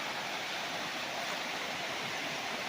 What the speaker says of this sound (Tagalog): Ang sarap pakinggan ng agos ng tubig.